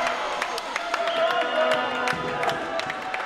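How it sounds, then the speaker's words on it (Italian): An indoor handball crowd at a Serie A Beretta men's play-out match between Carpi and Rubiera applauds player Ceccarini with steady clapping, scattered cheers and whoops under a continuous murmur of voices. "Applausi per Ceccarini."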